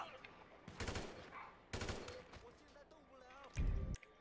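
Three loud, close bursts of automatic gunfire from the video game Grand Theft Auto 5, spaced about a second apart, with a voice in the background between the bursts.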